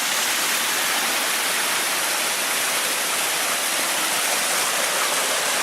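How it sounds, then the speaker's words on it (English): Water pours from a moist hillside at Pura Gunung Kawi in Bali, a steady broadband rush like a small waterfall, close and continuous for the whole stretch with no voices. "there's water flowing out of this hill everywhere"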